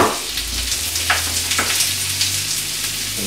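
Half an onion and six garlic cloves sizzle in a hot pan with a steady, close crackle and hiss, small pops scattered through, and no voices.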